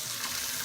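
Fish fries in a hot pan with a dense, steady sizzle and crackle, close and fairly quiet.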